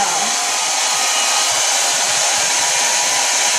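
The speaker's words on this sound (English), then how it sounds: "I'm going to be throwing a blow dryer on, like right now." A hair dryer set to cool blows with a loud, constant airy whoosh that holds steady throughout, with no other sounds.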